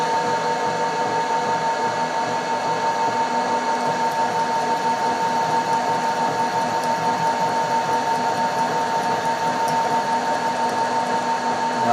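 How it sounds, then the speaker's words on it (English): Milling machine cutting a mahogany drill index, a steady loud motor whine with a constant tonal hum running unbroken and close, no talking. "It's arbitrary milling, this."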